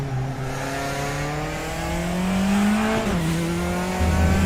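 A race car accelerates out of the pits in RaceRoom at Chang, its engine rising steadily in pitch through the gears, loud and close, with a brief dip and a shift near the end.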